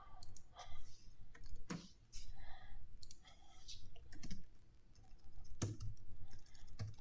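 Rapid clicking of computer keyboard keys in irregular bursts, close and moderately loud, with no talking over it.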